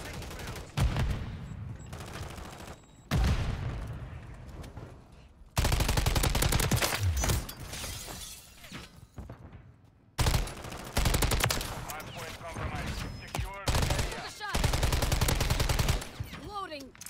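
Rapid automatic rifle fire from a Taq Eradicator build in Call of Duty MW3 multiplayer, loud close bursts cutting in and out repeatedly, with a player's voice heard between and under the shots.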